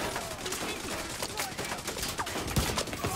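Sustained, dense automatic gunfire from a hard-kicking weapon in The Division 2, rattling on steadily with one sharper report near the end, fairly quiet overall in the game mix.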